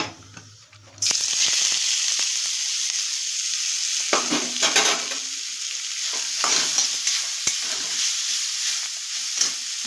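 Vegetables for a beetroot and carrot dish drop into hot oil tempered with black cumin, setting off a sudden loud sizzle that carries on steadily, broken by close stirring and scraping, with no speech.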